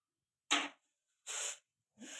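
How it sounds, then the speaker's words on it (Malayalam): Mustard seeds popping in hot oil in a clay pot for a village-style river fish curry: three short, hissing crackle bursts spaced roughly a second apart, quiet and close, with no voices. "കടുക് ഇട്ടിട്ടുണ്ട്. അതൊന്ന് പൊട്ടി വരട്ടെ."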